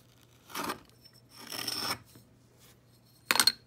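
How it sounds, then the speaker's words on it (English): Excess red clay is scraped off a mold during vacuum-assisted casting, giving three separate short rasping scrapes, close and fairly quiet, with pauses between them. "Now what we're gonna do is we're gonna scrape this off."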